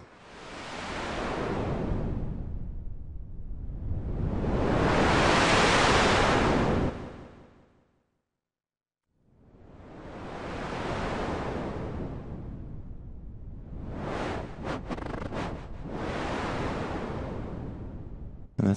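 Swelling noise from a Superwave P8 synthesizer rises and falls like wind and crashing surf, several long sweeping waves with a brief silence between, loud and airy.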